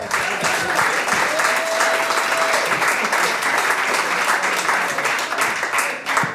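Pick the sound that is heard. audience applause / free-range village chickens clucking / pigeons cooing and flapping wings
audience applause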